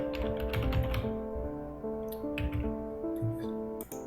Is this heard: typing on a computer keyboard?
yes